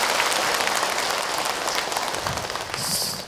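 Audience applause at an Indonesian religious gathering, a dense steady wash of many hands clapping close by with no talk, continuing evenly for several seconds.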